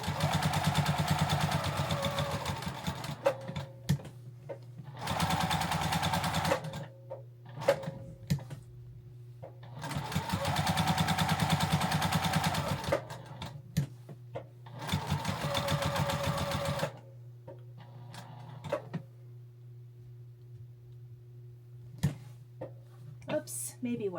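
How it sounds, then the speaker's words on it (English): A sewing machine stitches fabric scraps for a quilted postage-stamp pear, running in several sustained bursts separated by pauses, with a steady low motor hum underneath and occasional light clicks between runs. "I do want to kind of almost be a little wonky with my stitching."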